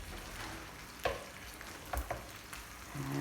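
Eggplant with a date-mussel filling and tomato cooks in oil in a pan, a soft, constant sizzle broken by a few sharp stirring clinks and scrapes near the middle.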